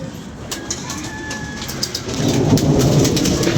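Rain begins falling outdoors with a low thunder rumble, a steady hiss that swells and grows heavier toward the end, with faint bird calls above it.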